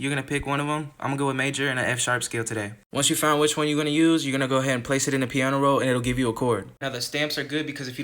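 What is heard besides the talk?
None of the usual background noises is heard.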